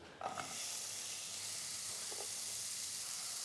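Onions hit hot oil in a pan and break into a steady, loud sizzle that fills the kitchen, with a brief stir clatter near the start and no talking.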